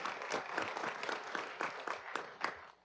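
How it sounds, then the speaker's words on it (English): Faint applause from the audience at a city council meeting in Mobile, scattered claps in an uneven rhythm, heard at a distance for a few seconds, with a light murmur of voices underneath. "Let's give them a big round of applause."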